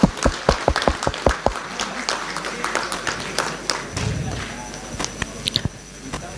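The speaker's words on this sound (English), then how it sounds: "Let us honor sir with a big round of applause." Scattered hand claps from a conference audience honoring a speaker, sparse and uneven at first with distinct individual slaps, then thinning out amid low murmuring.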